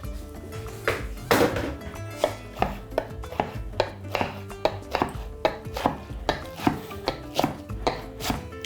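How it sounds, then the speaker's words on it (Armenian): A kitchen knife chops fresh spinach on a board while a bulgur and vegetable stuffed eggplant dish is prepared, giving close, crisp, evenly paced strikes, roughly two per second, with no talking. "Կտրատում ենք սպանախը։"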